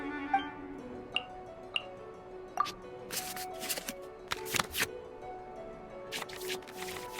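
Digital cards in the Genius Invokation TCG video game shuffle back into a draw pile, with soft ticks and droplet-like blips followed by a quick flurry of crisp, papery flicks, faint and without talk.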